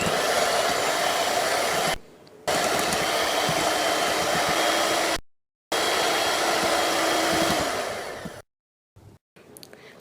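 An electric beater whips a mixture of cream, gelatin and condensed milk, giving a loud, steady motor whir that cuts out briefly twice and then stops near the end, leaving short clinks.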